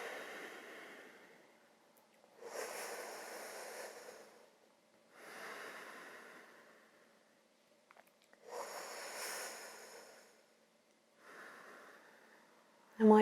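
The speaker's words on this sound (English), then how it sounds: "And close your mouth and breathe out." Slow yoga cooling breaths drawn in over a curled tongue and let out through the nose during a gentle prenatal session, five long airy breaths with quiet pauses between, close and soft.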